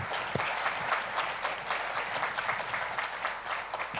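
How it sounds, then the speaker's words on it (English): An indoor audience applauds the panelists at the close of a discussion panel: steady, full clapping from many hands that continues throughout. "Please, let's give our panelists another round of applause."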